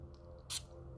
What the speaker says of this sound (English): I'm going to spray it from the side so that you guys can see the distribution.